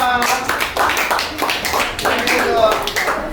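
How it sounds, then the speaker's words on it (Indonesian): Students in an Indonesian coding and artificial intelligence classroom clap together in a quick burst of close, uneven applause lasting a few seconds, with voices mixed in. "Tepuk tangan untuk nomor 2."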